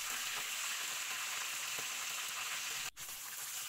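Broiler chicken pieces fry in hot oil for a roast, giving a steady, close, dense sizzle that carries on without pause apart from one brief dip near the end.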